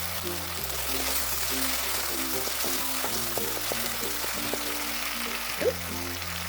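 Ginger garlic paste frying with tomatoes and onions in a pan, a steady close sizzle running throughout with soft stirring clinks, while a low background hum persists.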